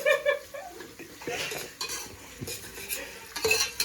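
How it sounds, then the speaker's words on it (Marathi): Khichdi being stirred in a pot on a gas stove in a shared room kitchen, with clinks of a spoon against metal and faint sizzling, close and intermittent. "खिचडी होत आहे इकडं"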